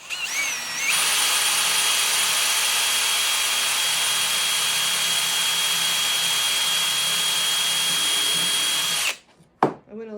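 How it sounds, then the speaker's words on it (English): A drill bit boring into wood makes a steady, loud, high whine close by for about eight seconds before stopping abruptly. "I went a little faster and let the bit eat the wood"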